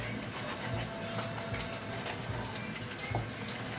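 Salmon fries in a pan with a steady, close sizzle that keeps a continuous crackling hiss, broken now and then by a few soft clicks and light knocks.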